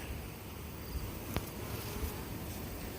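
Honey bees buzz on a hive frame during a September hive inspection, a soft, steady droning hum with a faint brief tick partway through and no talking.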